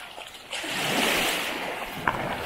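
Sea surf at a quiet beach cove swells into a broad, close wash of breaking water that holds steady, with a small splash near the end.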